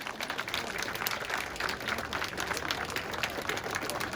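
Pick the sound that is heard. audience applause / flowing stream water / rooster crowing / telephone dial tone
audience applause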